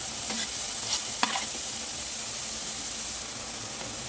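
Chopped vegetables, including green chilies, cabbage and onion, stir-fry in a hot pan for manchow soup, giving a steady soft sizzle with a few faint clinks of a spoon stirring.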